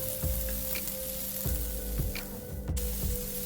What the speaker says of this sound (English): when the pan is hot enough, we will add the seasoned zucchini slices into it.